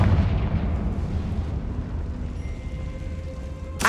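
Confringo fire spell in Hogwarts Legacy: a deep, rumbling explosion opens loud and slowly decays, followed by a faint tonal hum and a brief sharp crack at the very end.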